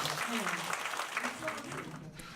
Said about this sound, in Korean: 여러분들 힘찬 박수 한번 보내주시면 감사하겠습니다.